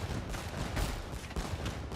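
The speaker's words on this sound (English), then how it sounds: "25 organ guns coming." Massed organ guns from Age of Empires II let loose a loud, continuous fusillade, with rapid overlapping gunshot cracks and heavy low thumps rolling on for the whole stretch.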